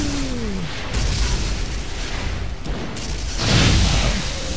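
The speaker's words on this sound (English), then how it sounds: "Fireworks show!" Fireworks burst in Borderlands, a few loud booms and crackling pops spread across a few seconds over steady game rumble, the last burst strongest.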